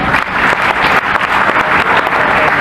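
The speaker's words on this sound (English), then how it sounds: "Give him a round of applause." An audience at an Asia Pacific convention in Singapore claps in a loud, dense burst of applause that carries on steadily throughout, with no talking.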